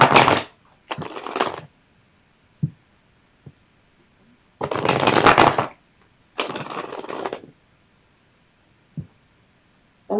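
Tarot cards being shuffled by hand in close, crisp bursts: four main riffling shuffles separated by silence, with a few soft taps and knocks between them, no talking.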